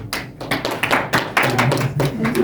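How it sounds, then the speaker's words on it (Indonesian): Students in a classroom clap for a group after a presentation, close and fairly loud uneven hand claps mixed with taps and thumps, with voices murmuring underneath. "Tepuk tangan dulu untuk kelompok 1."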